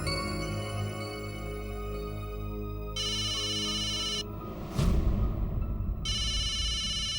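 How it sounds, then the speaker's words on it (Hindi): A phone ringtone plays repeated electronic ringing bursts, loud and close, with a short whoosh in the middle and a sustained tone underneath. "किसे फोन कर रहा है? टप्पू को।"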